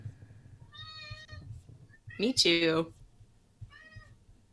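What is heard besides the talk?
two cats meowing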